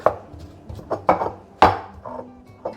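Garlic cloves being ground with a stone mortar and pestle for shrimp patties, giving a series of irregular close knocks and crunching strikes, a few louder thuds standing out, with no talk.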